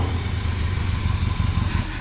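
Engine of a 1968 Ford F100 pickup truck running steadily at idle, a continuous low rumble heard close up with no talking.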